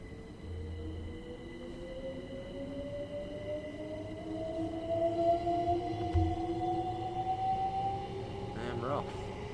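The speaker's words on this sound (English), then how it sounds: "Let's watch the train leaving as well." A Class 377 electric train pulls out of a station on the Brighton Main Line in Train Sim World 5, its rising motor whine climbing steadily in pitch over a low rumble.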